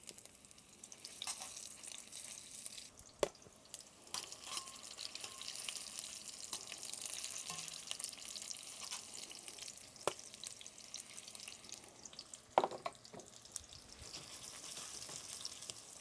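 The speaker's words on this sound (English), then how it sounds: "once the oil is hot, we start frying off the meatballs" Meatballs frying in hot oil, spaced apart in the pan, giving a quiet, steady sizzle with occasional sharp pops and light clicks throughout.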